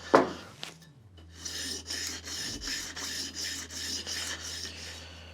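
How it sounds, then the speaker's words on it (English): Wooden piece being sanded or filed by hand, a steady back-and-forth rasp in even strokes, close and moderately loud, after a brief knock at the start. "I'm going to sand that down."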